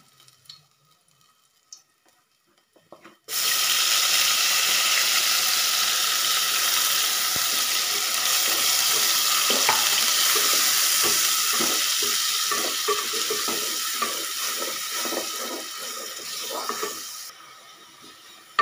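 Garlic and ground coconut masala paste frying in hot oil for a mackerel curry, a loud sudden sizzle that holds steady with scraping stirs, then cuts off near the end.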